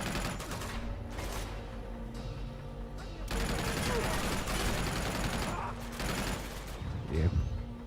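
In the video game Uncharted 2, a mounted turret machine gun fires long sustained bursts, loud and dense rattling with brief pauses, mixed with other game sounds and people talking over it.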